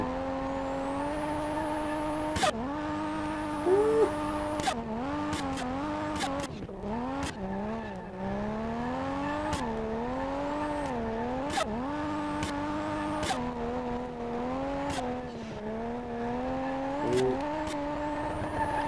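An engine revs and wails through shifting pitches as a car drifts in the SLRR racing game, with tire squeals and sudden throttle blips recurring throughout, loud and continuous without talk.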